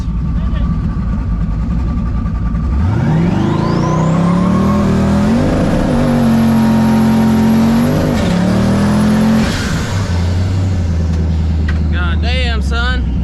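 A Ford Foxbody fitted with an LS 5.3L V8 launches hard, its loud engine note climbing steeply through the revs, holding high, then dropping off as the run ends, with a brief voice near the close.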